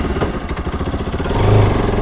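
A motorcycle engine runs steadily close by in San Antonio, a low throbbing hum that swells louder toward the end, with no voices over it.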